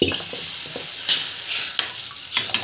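Tamarind water hitting a hot pan, with a steady sizzle and a few short splashy bursts as it's poured and stirred, close by.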